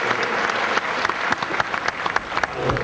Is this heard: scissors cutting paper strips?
no